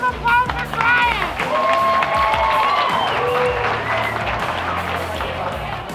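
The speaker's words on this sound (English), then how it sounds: "Give him a round of applause for Brian." A steakhouse crowd claps and cheers for a diner who took on the 72 oz steak challenge, loud, dense applause lasting throughout, with whoops, shouts and voices mixed in.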